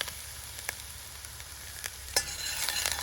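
Small-cut aubergine and garlic frying in a pan, giving a quiet, steady sizzle broken by a few sharp stirring clicks that grow busier toward the end.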